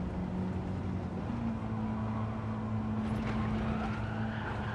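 A race car lapping in Gran Turismo 7, its engine note holding a steady, continuous drone with a gradual pitch rise, loud and alone with no talking.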